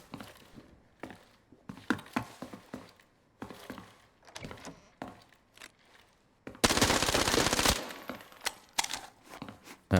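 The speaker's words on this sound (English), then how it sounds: "We're going to try to get in close and do some hip firing" Hip-fire gunfire in the video game Arena Breakout: Infinite, with a scatter of sharp single shots and footsteps early on, then a loud sustained automatic burst of close-range fire lasting about a second, followed by further scattered shots.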